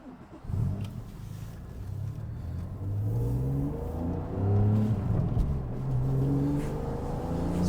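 Porsche 911 Carrera S (991.1) engine cranking to life and then revving, with deep rising and falling engine tones swelling several times, loud and close.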